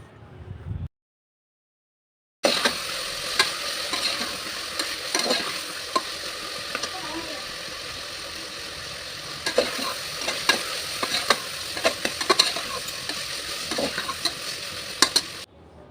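Onion and tomato frying in a pan for vegetable green pulao, a steady loud sizzle with a spoon stirring and scraping at intervals, after a brief silent gap near the start.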